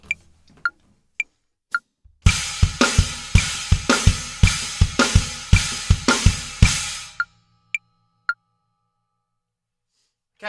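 Drum kit plays a 2-against-3 polyrhythm with a snare backbeat at 110 BPM, with crashing chinas. A steady run of loud, evenly spaced hits comes alone, framed by a few sparse clicks before and after.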